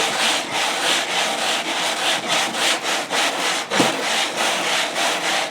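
A 1971 Honda CB175 motorcycle cylinder head rubbed back and forth on wet sandpaper to deck it, making steady, rhythmic gritty scraping strokes roughly twice a second, close and loud, with no talking.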